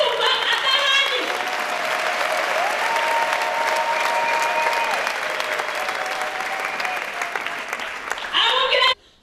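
A church congregation claps loudly and continuously, a steady roar of many hands over a sustained musical tone, with voices emerging at the edges before it cuts off abruptly.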